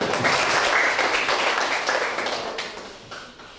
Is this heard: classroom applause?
yes